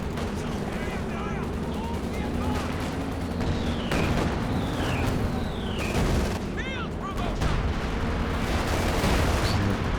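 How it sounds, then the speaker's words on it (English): An artillery barrage in a Company of Heroes 2 match pounds away continuously, with booming impacts and whistling incoming shells over a steady roar of battle noise, heavy and unbroken for the whole stretch. "Bunker busting barrage long range here"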